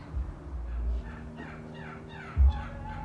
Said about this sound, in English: Oh, the birds as usual, singing, the birds.